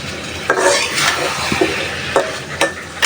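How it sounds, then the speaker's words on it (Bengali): Fish frying in oil in a pan while being stirred, with a steady sizzle broken by several sharp scrapes and clacks of the spatula against the pan. "দু তিন মিনিটের মতো কষিয়ে তারপর উঠিয়ে রাখবো"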